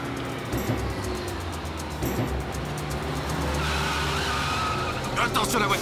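A car skids on a forest road, with short sharp tire squeals over a rumbling engine and a vehicle moving close by, while voices talk over the scene.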